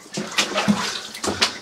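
Water trickles and splashes softly at the portal of an old silver mine in Stewart, British Columbia, a close, irregular dribble with small drips and no talking.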